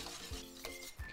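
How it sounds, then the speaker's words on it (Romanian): A spoon stirring cornstarch, sugar and juice cream in a pot on the stove as it thickens, soft scraping with a few light metallic clinks, faint and close. "voi fierbe totul amestecând continuu până când crema se va îngroșa"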